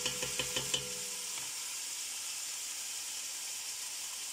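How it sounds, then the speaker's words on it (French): Lamb and potatoes searing in a pan, a steady bright sizzle with a few knocks of stirring at the start, close and continuous, with no voices. "on va bien faire revenir tout ça pour faire ressortir le sucre de la viande"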